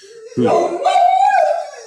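Dogs howl indoors in one long, rising, wavering wail lasting over a second, close and loud, with a brief lower yelp at the start.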